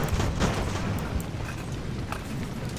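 Massed musket volleys and cannon fire from a naval-era land battle in Ultimate Admiral: Age of Sail, a dense, continuous rumble of overlapping shots and booms with no clear gaps, loud and distant-sounding.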